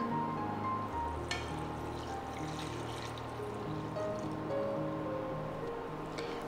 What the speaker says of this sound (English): Now add in our milk.